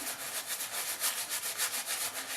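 Shaving lather being rubbed by hand into a long beard, a close, steady, rhythmic scrubbing and squishing that repeats without pause, with no voices.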